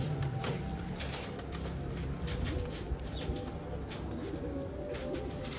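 Ferozpuri Chuhe pigeons coo softly in a loft, with low repeated calls, light chirps and an occasional flutter of wings, fairly faint against a constant background hum.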